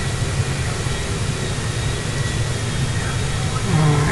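Airplane engine in the GTA 5 video game, a constant loud jet drone with a deep rumbling low end that holds steady throughout, a faint tone rising near the end.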